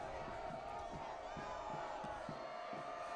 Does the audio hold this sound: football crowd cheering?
yes